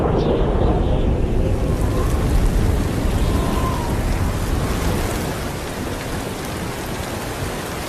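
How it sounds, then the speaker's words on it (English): Heavy rain pours down during a quick dry-season storm in the wilderness, a dense steady hiss with low rumbling thunder underneath that gradually eases toward the end. "Once it started raining, the lions started to lick each other"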